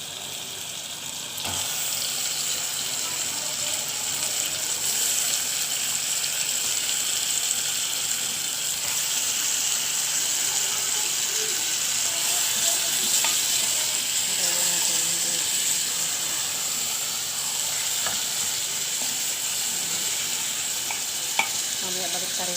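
Chicken pieces sizzle and fry steadily in a pan of sautéed garlic-onion mixture for a saluyot (molokhiya) and chicken dish, with a constant close hiss and occasional stirring clatter and scrapes.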